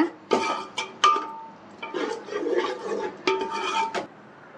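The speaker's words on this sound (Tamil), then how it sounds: "இப்போ இதை ஒரு கிளறி விட்டுக்கலாம். ஒரு 1 நிமிஷம் மட்டும் நல்லா கிளறி விட்டுக்கோங்க." A spoon stirs green paste into tomato masala in a pan for chicken donne biryani, giving several close scraping strokes and metallic clinks against the pan, separated by brief pauses.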